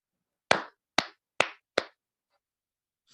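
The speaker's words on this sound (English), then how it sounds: "1 person only is clapping." A lone person in an audience claps four times at an even, unhurried pace, each crisp clap standing alone against a silent room with no talk.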